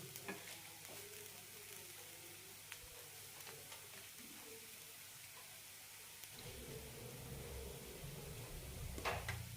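Ragi aval upma with grated coconut, coriander and curry leaves stirred in a pan: steady close scraping and soft frying hiss, growing a little louder toward the end, with no voices.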